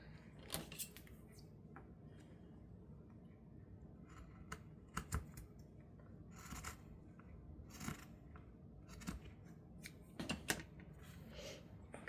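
Paper is being trimmed with scissors while making a paper bag journal, giving quiet, irregular snips and crisp paper rustles scattered over a faint background.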